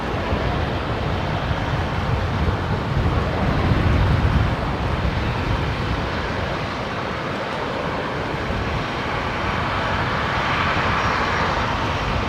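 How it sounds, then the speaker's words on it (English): A Qantas Link Embraer 190 jet arrives at Brisbane Airport from Canberra, its engines a steady, broad roar that fills the whole stretch without a break. "Just watching Qantas Link 1910 there as it arrives from Canberra. The Embraer 190."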